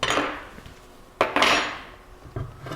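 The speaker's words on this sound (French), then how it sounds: "avec la clé à cône, vous allez dévisser le cône un petit peu" A cone wrench loosens the wheel-bearing cone on an e-bike hub, giving a few close metallic clinks and scraping taps in short bursts, with no talking.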